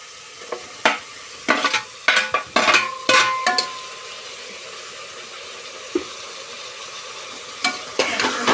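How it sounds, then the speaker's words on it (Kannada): Spices temper in a pan before tomato goes in, giving a soft continuous sizzle broken by sharp clattering stirs and scrapes of a spoon against the pan, close and intermittent, without talk. "ಈಗ ಒಗ್ಗರಣೆ ಮಾಡ್ತಾ ಇದೆ ಸ್ವಲ್ಪ ಆನಂತರ ಟೊಮೊಟೊ ಸೇರಿಸ್ಕೊಳ್ಳಿ"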